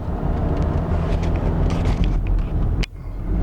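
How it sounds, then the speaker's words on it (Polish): Car engine straining as it climbs steep Baldwin Street, a steady low rumbling drone heard from inside the vehicle, loud and continuous, with a sharp knock near the end. "Ale już naprawdę samochód ledwo ciągnął."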